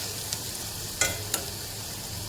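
Chopped onions with salt fry in a pan, a steady close sizzle broken by a few quick spoon scrapes, no talking.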